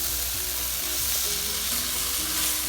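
Vegetables sizzle in a hot pan while softening for an alkaline vegan sandwich, a loud, steady, close-up crackling hiss with no pauses.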